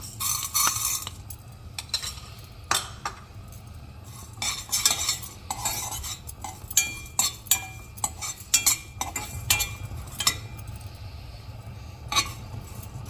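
Black peppercorns dry-roasting in a pan for a postpartum spice powder, stirred with a metal spoon that gives repeated sharp scrapes and clinks over a quiet low hum, with no talking.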